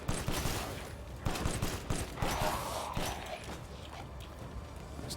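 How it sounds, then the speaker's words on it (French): Rapid bursts of submachine gun fire in the video game Resident Evil Village, a dense run of sharp repeated shots over game ambience. "C'est un pistolet mitrailleur, ça? J'y vais."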